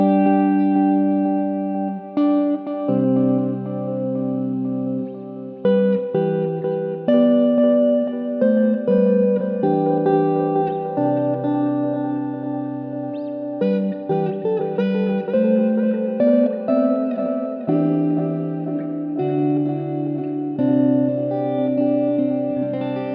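Electric guitar picking a slow melody through spring reverb and tape delay, drenched in springy reverb and warbling, saturated echo repeats that trail behind each note.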